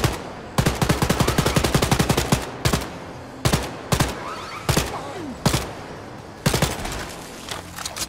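Bursts of rapid automatic gunfire aimed at a turret defense system in the video game Wolfenstein Youngblood, loud and close, with long rattling volleys broken by short pauses and a few shorter bursts.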